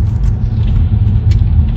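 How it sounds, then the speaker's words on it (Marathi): A road-cleaning snow plough truck that pushes snow to the roadside while spreading salt rumbles past on a snowy road, a steady low engine drone close by. "त्याचा रोडचं सगळा बर्फ असा साईडला सरकवतो तो ट्रक"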